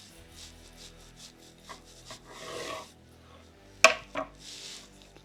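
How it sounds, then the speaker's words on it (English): A knife slices through a fatty slab of pork belly, giving soft rubbing, scraping strokes followed by a sharp clack as the blade meets the board. "So I'm going to go ahead, slice this right down the middle."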